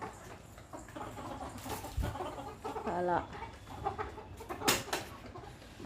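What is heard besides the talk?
chickens clucking outside the house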